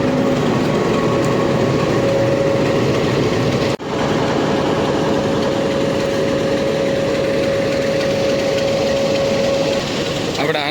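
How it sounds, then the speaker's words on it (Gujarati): A meter gauge train at Chalala idles and hums steadily with a loud, constant engine drone and a sustained tonal whine. One sharp knock breaks the sound partway through, and faint voices sit under it. "આપણી આ મીટર ગેટ ટ્રેન અત્યારે ચલાલાથી રેડી થઈ ગઈ છે"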